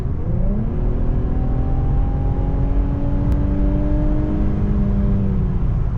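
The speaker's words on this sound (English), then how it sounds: "I'm gonna cruise down to 60 miles an hour, and let's floor it." Infiniti Q50 twin-turbo V6 with all-wheel drive, floored from 60 mph, giving a steady, loud engine drone that climbs in pitch, with turbo whir and road roar heard from inside the cabin.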